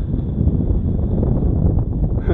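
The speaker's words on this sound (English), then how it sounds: "it's getting a little windy out here" Wind gusts buffet the microphone outdoors at an RC model flying field, a steady, loud, low rumbling roar throughout with no talk.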